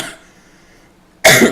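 A single loud, close cough bursts out at the end after near silence, off-mic noise during a commentated Dota 2 match.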